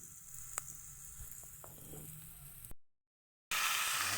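Snails hit a hot pan for adobong kohol and sizzle in a steady hiss with a few sharp clicks. A brief silent gap follows, then a louder burst of sizzling.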